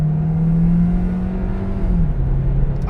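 A Hyundai Tucson hybrid with 200 horsepower accelerates hard from a standstill, its engine giving a loud, steady close drone whose pitch holds and then shifts slightly, with no talking over it.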